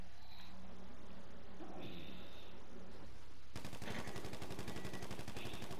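Rapid gunfire erupts in the GTA 5 video game, a fast burst of repeated shots taking over after a stretch of quieter ambient game sound.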